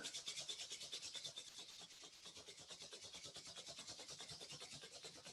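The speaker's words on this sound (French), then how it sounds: "On frotte les mains." Palms rubbed briskly together in a breathing and energy exercise, a steady fast rasping swish with rhythmic strokes that continue throughout, close and fairly soft, with no talking.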